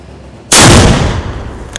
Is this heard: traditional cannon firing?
yes